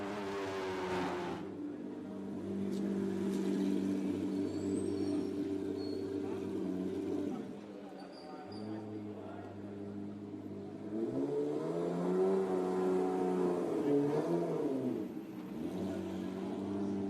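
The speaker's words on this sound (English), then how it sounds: "So the rest of the field makes its way down pit lane." Race cars rolling down pit lane during qualifying at the Algarve circuit, engines droning at restrained pit-limiter speed with rising and falling revs, fairly faint, with a commentator's voice over the top.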